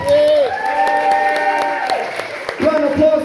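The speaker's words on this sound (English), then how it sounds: "Round of applause for David on Sound and Light!" Applause from a cabaret crowd for the sound and light technician: continuous loud clapping with a drawn-out cheering voice over it, then a fresh cheer near the end.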